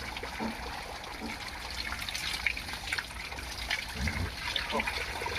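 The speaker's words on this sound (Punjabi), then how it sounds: "ਫਿਰ ਸ਼ੈਂਪੂ ਨਾਲ ਧੋਤਾ ਤੇ ਹੁਣ ਆਪਾਂ ਪ੍ਰੈਸ਼ਰ ਨਾਲ ਧੋ ਰਹੇ ਹਾਂ" A pressure washer sprays water over a goat during a bath on a Punjab goat farm. The spray is a close, continuous hiss that shifts in intensity as the jet moves across the animal.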